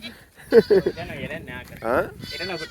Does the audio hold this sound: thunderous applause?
no